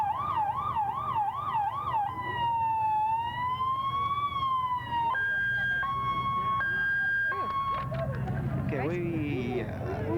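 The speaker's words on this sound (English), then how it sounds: "we've got the sirens going off again." Sirens from a rescue squad and fire truck rolling in a Christmas parade in Newport, 1988, a wailing siren shifting into a yelp and then a two-tone pattern, loud and close, with crowd noise underneath.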